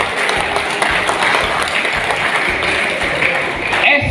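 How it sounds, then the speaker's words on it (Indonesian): A crowd of scouts applauds at a Halal Bihalal gathering in the Hajj dormitory hall in Palembang, a loud, continuous roar of clapping that fills the room without a break. "Tepuk tangan."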